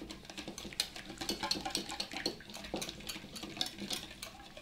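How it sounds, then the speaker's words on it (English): Rosemary, salt and pepper being whisked together in a bowl, a quiet, rapid run of light clicking and scraping strokes that keeps an even rhythm throughout, with no speech. "Now, we're just going to whisk that up a bit."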